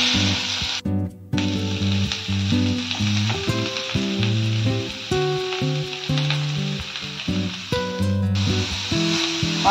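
Grated carrots hiss and crackle loudly as they fry in a pan for gajar halwa, a dense, continuous sizzle with background music playing alongside.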